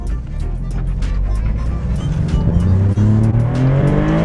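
A 2026 Maserati GranTurismo Trofeo with its Nettuno engine roars loudly and continuously, the engine note climbing as it accelerates, with tire squeal and rushing noise mixed in.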